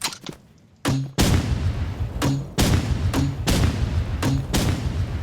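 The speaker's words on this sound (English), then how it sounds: "At second last, we have the grenade launcher." Grenade launcher firing in the shooter game Rivals: four loud, evenly spaced booming launches, each with a short hollow thump and rumbling tail, alone with no talk.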